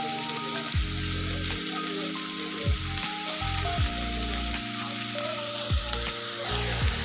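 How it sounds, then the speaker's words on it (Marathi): Chopped dill leaves fry in hot oil in a pan for a dry shepu bhaji, a loud continuous sizzle and crackle with occasional stirring scrapes, and no talking. "जी आपण आता चिरून घेतलेली भाजी आहे शेपूची ती इथं तेलामध्ये अशी टाकून घ्यायची"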